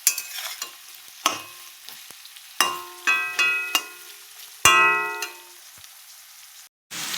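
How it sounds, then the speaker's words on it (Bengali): Bitter gourd frying in a pan for a Bengali shukto, with close sizzling and a series of sharp scraping clatters from a spatula stirring the pieces. "এই দেখো করলাটা অল্প ভাজা হয়ে গেছে।"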